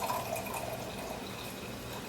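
Clos du Bois Pinot Noir, a light-colored red wine, is poured into a glass, giving a steady, close liquid trickle and splash that runs through about two seconds.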